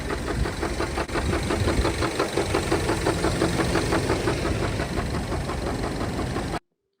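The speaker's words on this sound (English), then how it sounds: "the engine is knocking like this." A Mini Cooper S engine, covered in oil, runs with a rapid, regular knocking tick over its rumble, loud and close, then cuts off abruptly.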